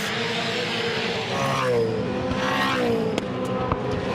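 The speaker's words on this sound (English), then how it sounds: "It shows just how quick the cars are on this straight." V8 Supercars race cars at the 2011 Darwin Triple Crown scream down the straight, engines rising and falling in pitch as they sweep past, loud and continuous with commentary faintly underneath.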